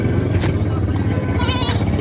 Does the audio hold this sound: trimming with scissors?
no